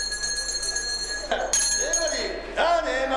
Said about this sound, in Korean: 속이 꽉 찬 귀한 박달대게까지 선별을 마치면 종소리와 함께 경매가 시작됩니다.